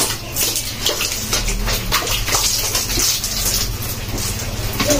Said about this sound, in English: Let me wash my face.